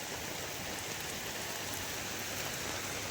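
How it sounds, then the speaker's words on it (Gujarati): Steady rain pours down outdoors in a continuous, even hiss of drops striking surfaces, loud and unbroken throughout with no voices. "એક ધારો વરસાદ મંડાણો છે"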